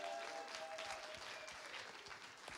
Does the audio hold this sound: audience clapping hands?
yes